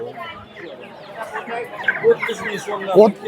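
A young Makiyon rooster at a busy bird market gives short, strained crowing and clucking calls close by, mixed with other fowl and overlapping chatter from people around.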